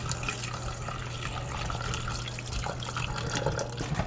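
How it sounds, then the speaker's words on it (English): Water is poured into a pot of neem leaves, making a steady, continuous rushing splash with no pauses, close and fairly loud, with no one speaking. "So we're going to add some water,"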